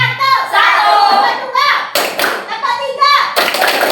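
A few sharp hand claps ring out in quick succession among children's voices, close and loud.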